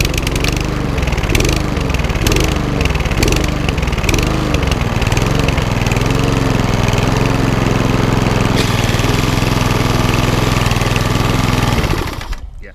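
A Briggs and Stratton lawnmower engine runs loud and close with a steady, rough mechanical drone and a faint rhythmic knock, then cuts off abruptly at the end.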